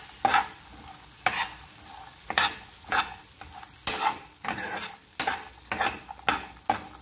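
Cluster beans (gavar) stir-fried in oil in a pan, with repeated scraping stirs every half second or so over a soft sizzle.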